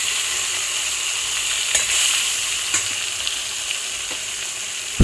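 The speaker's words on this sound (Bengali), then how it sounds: "গরম তেলে মাছগুলো ভেজে নিচ্ছি" Parshe fish fry in hot oil with a steady, loud, close sizzle and hiss that runs the whole time, broken by a few faint clinks and stirs.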